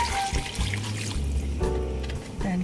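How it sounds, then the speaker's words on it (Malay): Water, including rinse water from a blender, is poured into a pot of green chicken soup with potatoes and carrots, giving a steady close trickle and splash that shifts in tone as the pot fills. "Dan kita masukkan air."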